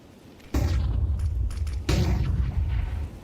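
Two bursts of Counter-Strike flashbangs go off in a late-round barrage during an ESL Challenger League esports match, each a sudden loud bang that leaves a sustained roaring ring afterward.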